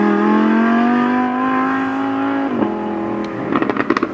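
An Audi R8 supercar at Curborough sprint course roars past with a high, sustained engine note that drops in pitch as it goes by, followed by rattly crackles and pops from the exhaust.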